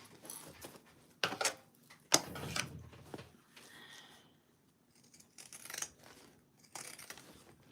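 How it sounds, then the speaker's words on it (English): Scissors trimming bag fabric, a handful of distinct crisp snips and rustles in short bursts with quiet pauses between, close and fairly soft. "let's trim this down just to reduce some bulk"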